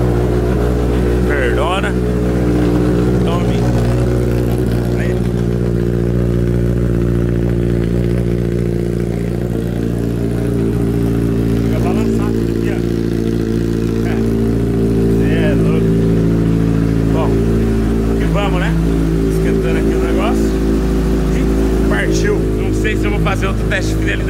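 A Honda CB1000 motorcycle engine idles as it warms up, a loud, steady, close throb holding the same pitch throughout, with people talking over it at times.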